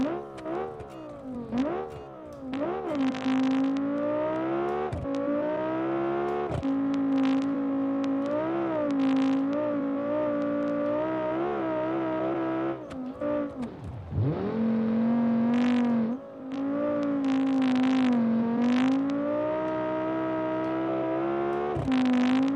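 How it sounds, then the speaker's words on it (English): An SUV engine in a cross-country racing video game holds high revs and crackles. It drones with a strong steady tone that dips and rises through gear changes, with faint popping over it for about twenty seconds. "the crackling from the engine in that RPM range"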